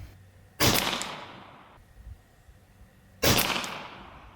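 Two sharp shots from an FX DRS Tactical .25 caliber air rifle, spaced about two and a half seconds apart, each a crisp loud crack with a short fading tail over a quiet background.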